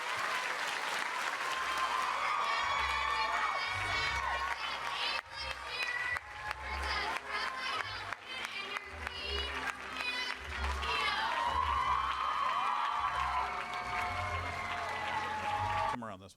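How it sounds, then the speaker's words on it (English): Loud studio crowd applauding and cheering for a group of girls on a live morning show, sustained clapping with whoops and shouts throughout, swelling again midway. "so let's give them a round of applause too."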